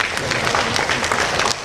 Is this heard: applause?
yes